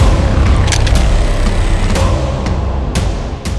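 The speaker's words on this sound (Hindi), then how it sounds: "ये किसी भी टाइम फट जाएगा। पीछे हट जाइए।" A bomb explosion rumbles loudly and continuously, with a heavy low roar and several sharp cracks and bangs scattered through it, close and dense.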